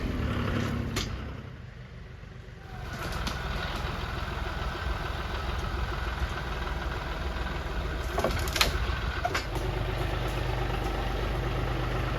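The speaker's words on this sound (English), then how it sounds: "it's a whole lot easier using a front end loader to gather up all these limbs" A front end loader's engine idles steadily while clearing fallen tree limbs outdoors, a low continuous rumble with a few brief clanks and knocks over it.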